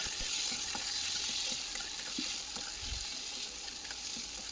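Baby potatoes and tomatoes fry in a pan with a soft, steady sizzle and occasional faint stirring taps, fairly quiet and uninterrupted.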